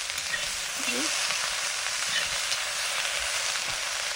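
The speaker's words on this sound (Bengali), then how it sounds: "বিন ভাজা হয়ে গেছে এবার বাঁধাকপিটা ভেজে নিচ্ছি" Cabbage frying in a pan after beans, a continuous loud, even sizzle and hiss with faint stirring, no voices.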